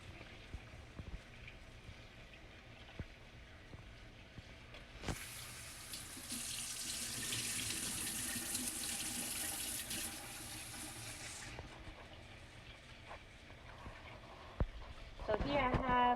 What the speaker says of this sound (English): It's very important to wash the rice.